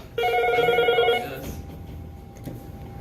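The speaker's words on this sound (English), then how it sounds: "The phone was ringing and there was no one in here." An indoor telephone bell rings in one steady burst of about a second, then stops, leaving a quiet room with faint background noise.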